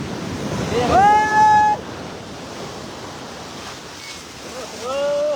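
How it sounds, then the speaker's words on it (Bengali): Sea waves wash onto the beach at Digha in a constant rushing roar with wind buffeting the microphone, a couple of brief whistling tones rising above it and voices faintly in the background. "জলের যা আওয়াজ কি বলবো"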